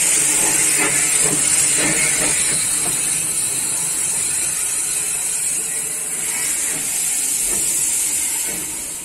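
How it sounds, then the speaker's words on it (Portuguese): A restored London steam locomotive running in a backyard in Pouso Alegre, giving off a loud, steady hiss of steam with rhythmic chuffing pulses throughout, close by and unbroken. "Essa locomotiva de Londres fica no quintal de uma casa aqui em Pouso Alegre e voltou a funcionar no último domingo"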